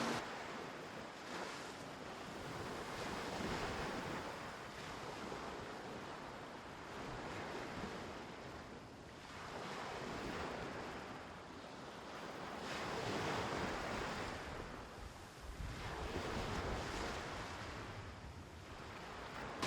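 Waves roll in on Lipah Beach in Bali at sunset, a continuous rushing surf that swells and recedes every few seconds, mixed with wind buffeting the microphone, no voices.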